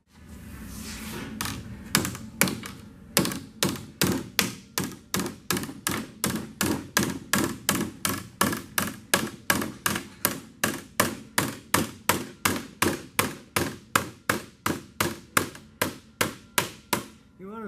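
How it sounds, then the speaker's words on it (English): A flat body hammer beats a sheet metal A/C cover for a 1965 Chevy Bel Air into shape, giving a long, even run of sharp metallic strikes, about two per second, close and loud. "I'll get a flat body hammer."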